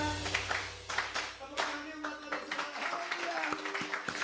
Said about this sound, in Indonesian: Boleh tepuk tangan semua yuk